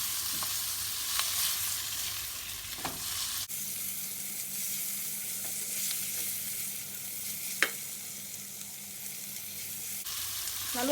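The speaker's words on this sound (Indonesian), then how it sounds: "masukkan wortel dan jamur. Ditumis sampai wortelnya sedikit empuk." Carrots and mushrooms sautéing in a pan for Hong Kong-style fried rice vermicelli, a steady close sizzle with occasional stirring clicks and scrapes, running throughout with no talk.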